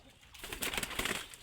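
A racing pigeon coos softly at close range, a low burbling call that swells and pulses steadily for a little over a second.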